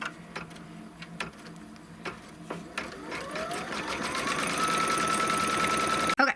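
An embroidery machine stitches a placement line for batting on fabric for a Kimberbell roll-up pouch, its rapid mechanical ticking starting sparse and speeding into a steady, dense whir before stopping abruptly.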